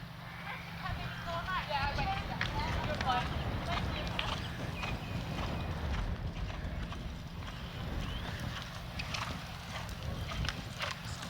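Rhythmic hoofbeats from a horse during a show jumping round at a West Wilts eventing competition, a continuous clip-clop cadence close by with people talking over it.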